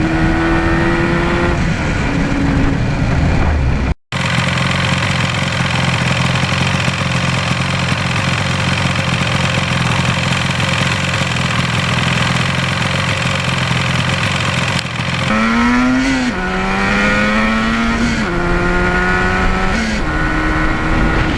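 A 1977 Yamaha RD400 two-stroke motorcycle engine runs steadily near and loud, idling with a low throb, then revs up in several rising and falling throttle blips toward the end.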